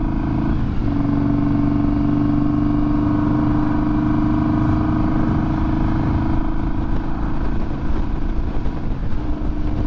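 A car engine pulling in third gear from about 3,000 RPM on a road dyno run, a loud, steady in-cabin drone with a slowly climbing tone and constant road rumble throughout.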